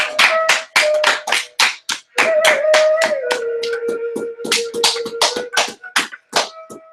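A small group claps hands in quick, slightly uneven bursts at the close of a yoga class, close and loud, while a sustained tone hums faintly beneath the claps.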